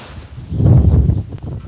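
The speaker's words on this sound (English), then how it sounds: "it's a windy one" A brief gust of wind rushes and buffets close by, swelling for under a second before easing into a soft rustle.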